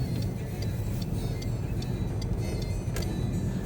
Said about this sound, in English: There's a CityLink bus.